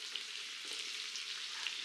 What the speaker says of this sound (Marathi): हा बघा, हा बारीक फाईन केलेला आपण त्याच्यामध्ये कांदा टाकतोय।